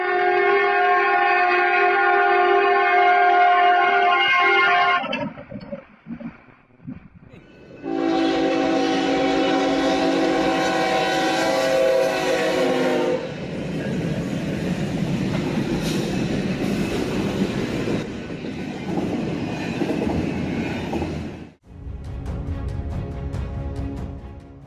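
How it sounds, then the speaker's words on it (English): A train sounds a long, loud, sustained horn at an unguarded level crossing in Argentina, cut by a brief gap and a second long blast, then rumbling wheels and a final short blare up close. "this van driver in Argentina couldn't hear the noisy horn"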